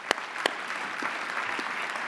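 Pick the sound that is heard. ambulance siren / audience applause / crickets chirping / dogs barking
audience applause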